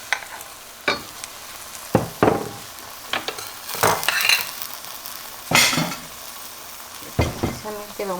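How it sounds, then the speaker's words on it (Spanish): Tomato salsa with roasted garlic and onion, ground in a molcajete, sizzles loudly in a hot pan, with repeated sharp spatula scrapes and clinks against the pan over a constant hiss. "Vamos a poner de una vez la salsa de tomate con el ajo y la cebolla asado"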